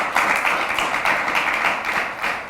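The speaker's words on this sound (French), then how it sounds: "on peut quand même l'applaudir, non?" An audience applauds a young woman leader during an event on leadership and entrepreneurship, steady dense clapping for a couple of seconds with a slight swell and fade.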